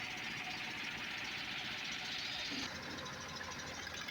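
A boat engine drones during a river crossing by speedboat or trawler, a continuous mid-pitched rumble with a steady wash of noise running throughout at even volume, no voices heard.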